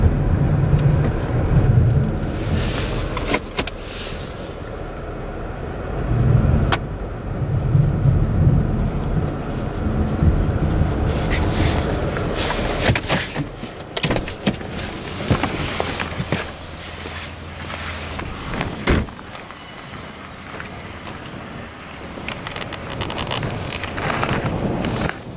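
A car drives onto packed snow thrown by a snowblower, a low rumbling engine and crunching tires mixed with gusty wind noise, fading and rising over the stretch.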